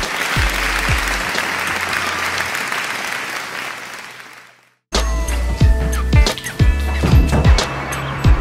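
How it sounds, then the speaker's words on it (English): Loud audience applause and clapping fill the room as someone enters, a sitcom studio crowd, breaking off abruptly midway and then resuming with thumping sounds mixed in. "Everyone claps every time I enter a room."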